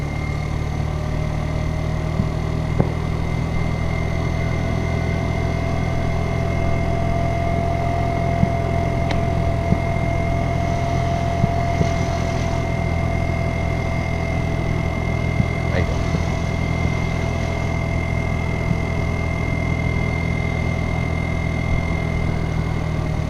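A Kymco Agility 50 scooter engine drones steadily as it climbs a steep hill, a constant mid-pitched hum with wind rush and faint clicks throughout.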